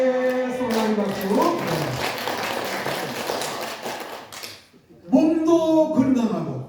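A seated audience at a church seniors' lecture claps hands in steady rhythm while voices chant and sing together, and the clapping briefly stops before starting again with the singing.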